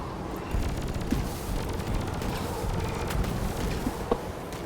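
Plasma carbine from Deep Rock Galactic firing a continuous stream of rapid, dense energy shots, loud and steady throughout with scattered sharper pops mixed in.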